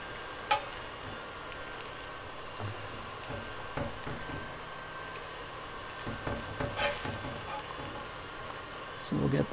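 Peach halves caramelize on a hot grill, a low continuous sizzle with occasional light taps and shifts of the fruit, with quiet talk nearby.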